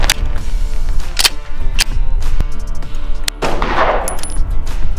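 Rapid 9mm pistol shots from a Walther PDP with a 4.5-inch barrel fired at covert body armor, sharp loud cracks spaced irregularly across a few seconds over a noisy outdoor background.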